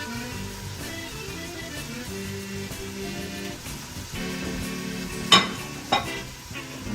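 Green onion sizzling and crackling steadily in a pot of simmering fat while making red beans and rice, with a stirring scrape and a couple of brief sharper clinks near the end; no voices.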